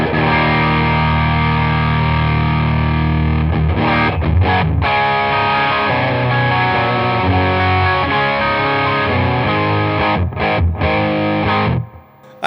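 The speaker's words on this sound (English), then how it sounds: "All right, let's move the gain all the way up." Electric guitar driven through a Paul Cochrane Timmy overdrive with the gain turned all the way up, thick and saturated; loud, close strummed chords ring out with brief breaks before fading at the end, no voices.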